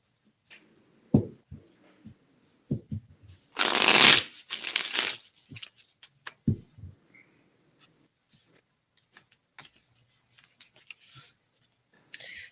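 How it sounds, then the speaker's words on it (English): Quick riffling bursts of playing cards being shuffled, close and crisp, followed by scattered soft card taps and clicks in a quiet room. "you're going to hear me clearing the cards real quick for you"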